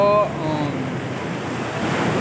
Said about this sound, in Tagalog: Nakita nyo na po, ang lakas po ng alon guys.